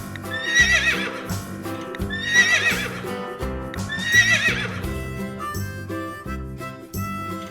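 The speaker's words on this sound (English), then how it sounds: "Horse, orange and black color." A horse whinnies three times in shrill, shaking bursts over a rhythmic background with clip-clop-like beats, the calls evenly spaced and fairly loud.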